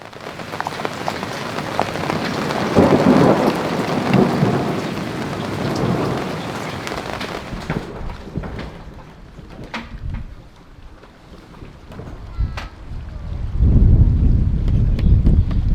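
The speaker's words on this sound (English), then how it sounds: "At night, we experienced a heavy storm." A heavy night thunderstorm pours steady rain with rolling thunder. The rain hiss stays loud and continuous, drops tap on surfaces, and deep rumbles surge near the start and again at the end.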